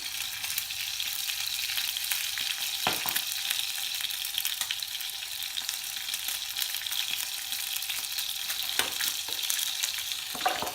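Salmon seasoned with salt and pepper fries in hot oil, giving a loud, continuous close-up sizzle and crackle with occasional sharper pops throughout and no voices.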